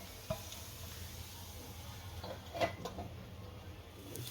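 Sabudana gota frying in oil in a covered pan, a faint steady sizzle with occasional soft clicks and pops.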